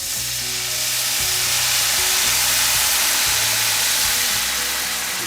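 Red wine poured into a hot pan with garlic, searing beef juices, bursts into a loud, steady sizzle and bubbling hiss that fills the whole stretch close up, with no talking.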